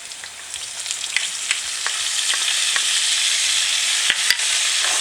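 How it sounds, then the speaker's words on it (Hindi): Potatoes sizzle and crackle steadily in a hot pan, with occasional scraping stirs and a faint low hum underneath. "आलू को हमने फ्राई कर लिया थोड़ा सा।"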